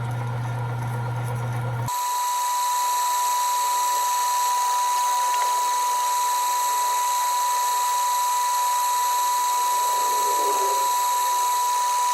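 A drill cutting metal for a rifle muzzle brake, run too fast, whines high and steady with a grinding hiss, loud and close, after a brief lower-pitched start.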